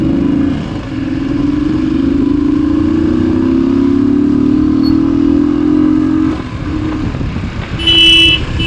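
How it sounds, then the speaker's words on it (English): Busy road traffic in Vijayawada city, a steady loud rumble of motorbike and car engines passing close by, with a brief horn toot near the end. "Vijayawada traffic."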